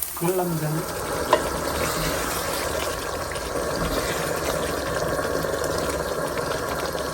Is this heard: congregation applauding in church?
no